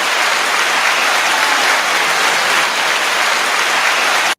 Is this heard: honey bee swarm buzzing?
no